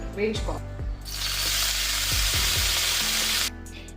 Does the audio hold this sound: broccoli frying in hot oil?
yes